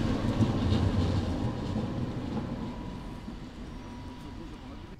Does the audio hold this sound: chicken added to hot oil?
no